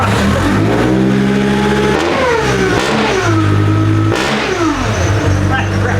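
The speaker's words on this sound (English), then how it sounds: "the supercharger's loud, but see what the exhaust sounds like." A supercharged ZD30 Nissan Patrol diesel is revved repeatedly, with loud supercharger whine and throaty exhaust rising and falling in several close blips, while someone speaks at times.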